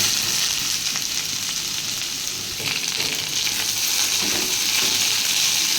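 Bitter gourd, red potatoes and onion fry in oil in a wok, giving a dense, even sizzle that stays loud and close throughout with faint shifting crackles and no voices.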